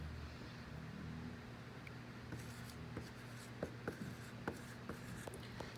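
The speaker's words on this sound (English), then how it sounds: "So I'm going to go ahead and write both of those numbers on the whiteboard" A marker writes numbers on a whiteboard in a classroom lesson, giving short, faint squeaky strokes that come in a loose series of taps and swipes over quiet room noise.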